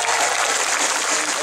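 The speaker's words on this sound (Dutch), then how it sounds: "En groot applaus voor al die koren." Audience applause for the choirs at a shanty festival in Emmen, a dense, steady wash of clapping from a large crowd, continuous and fairly loud throughout.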